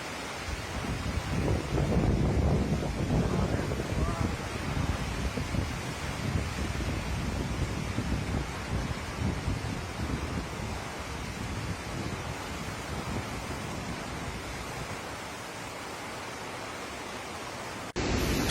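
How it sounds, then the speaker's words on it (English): Floodwater surging through overflowing channels in Italy, a dense continuous roar of rushing water close by, steady and loud all the way through with no voices. "Water channels are overflowing."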